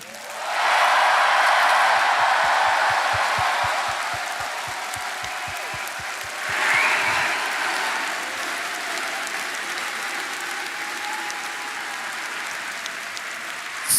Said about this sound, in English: If I could get a big round of applause for everyone at DE.